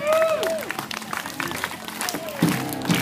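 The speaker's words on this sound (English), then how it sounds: "I want everyone clapping along to this music." A show audience clapping along to music at a holiday-camp wheel-of-death stunt act, a continuous crowd patter under music with a loudspeaker voice over it.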